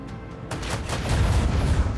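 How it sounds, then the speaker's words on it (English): Port side cannon fire from a warship in the space game Rogue Trader, a quick run of heavy booming shots blending into a rumbling roar that swells over two seconds, with no talk. "I hit them with my port side cannon"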